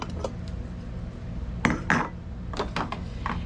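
Glass canning jars clink and knock against each other and the counter while whole tomatoes are packed into them, a few sharp, close clinks amid soft handling noise.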